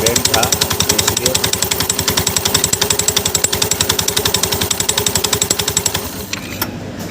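A motorcycle's self-starter on a bike with a bent nut makes a loud, fast mechanical rattle that chatters evenly for about six seconds before it cuts out.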